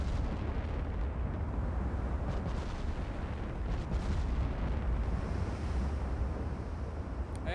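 Battleship main guns booming in the naval strategy game Ultimate Admiral Dreadnoughts, a dense continuous roar of heavy gunfire and sea rumble with no clear gaps and no talk.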